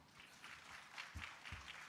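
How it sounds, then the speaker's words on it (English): Conference audience applauding at a fintech festival in Nairobi, Kenya: a soft, steady wash of many hands clapping, heard faint and distant throughout with no one speaking over it. "Mr. Kiptun, a round of applause for him as he comes."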